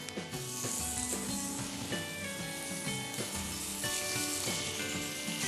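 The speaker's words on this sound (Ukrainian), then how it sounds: "Додамо трішки олії та розпочну обсмажувати наші рулетики." Meat rolls sizzle and crackle in hot oil in a pan, a steady close frying hiss with occasional pops and no talking.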